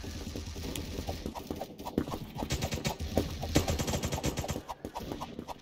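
Gunfire in the online shooter game Krunker: quick bursts of sharp, rapid shots with a clattering rhythm, fairly quiet and close.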